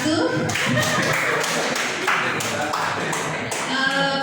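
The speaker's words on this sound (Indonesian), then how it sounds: "Ya, tepuk tangan dulu untuk kelompok 1." A classroom group of teachers claps for the first presenting group, a fairly brisk run of sharp hand claps with speech mixed in.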